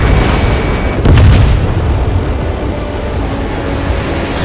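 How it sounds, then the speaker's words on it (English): Missile launches and explosions in the jet combat game Ace Combat 7: Skies Unknown, a loud continuous roar of engines and blasts with one heavier boom early on. "H2, missile launch."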